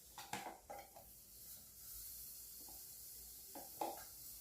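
Linguiça sausage and bacon frying in a pan give a steady high sizzle, broken by a few sharp clinks of a utensil against the cookware.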